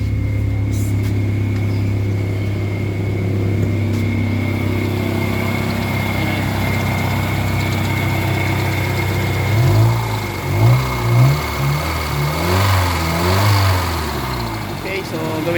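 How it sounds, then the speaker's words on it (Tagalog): A Kia Pride engine with low power runs rough, idling with a steady low drone and strong vibration, then revving in uneven pulses near the end, while someone talks over it throughout. "pangit yung yung andar ng engine. Sobrang lakas na mga vibrate, ang lakas ng vibrate"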